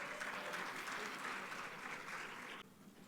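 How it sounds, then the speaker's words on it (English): Audience applause at the 6th Guam Assembly of Planners symposium, a dense, steady wash of clapping from a room full of people that cuts off abruptly near the end. "Please give them all a warm round of applause."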